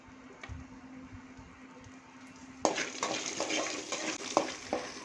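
Peanuts, dried chillies and crushed garlic stir-fry in a pan, starting as a quiet sizzle before a sudden louder burst of scraping, stirring strokes that repeats every half second or so.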